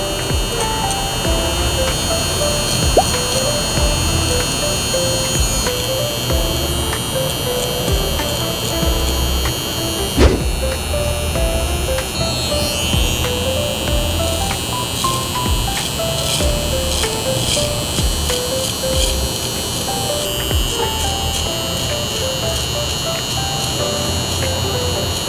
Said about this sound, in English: I'm gonna tilt my trimmer on this side